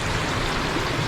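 Water rushes steadily down a Himalayan mountain stream, a dense, close, continuous splashing roar with no pauses.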